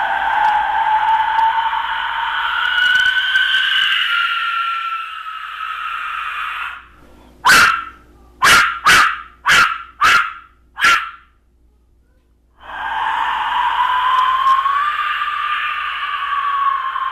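Clay Mictlanzihuatl Zihuateotl death whistle blown hard, giving long loud rasping shrieks, then a run of six short sharp bursts imitating a dog bark, followed by another long screech.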